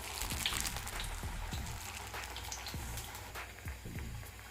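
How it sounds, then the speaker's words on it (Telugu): Sweetcorn vadas fry in hot oil in a pan over medium flame, giving a soft, steady crackle with scattered pops and sputters at close range. "మీడియం ఫ్లేమ్ మీద వీటిని వేయించుకోవాలి"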